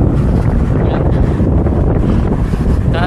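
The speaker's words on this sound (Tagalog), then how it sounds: "Sana naririnig nyo ako, lakas ng hangin, no?" Strong wind roars steadily into the microphone while road biking on an open route with mountains nearby, a constant loud rumbling buffet with no clear talk.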